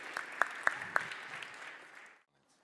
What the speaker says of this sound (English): Veliki aplauz.